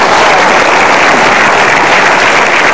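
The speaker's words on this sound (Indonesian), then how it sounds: "Boleh kita berikan tepuk tangan sekali lagi buat para juri Kick Andy Heroes Award." Dense, steady applause from a large audience fills the hall for the judges of the Kick Andy Heroes Award, loud and continuous with no pauses.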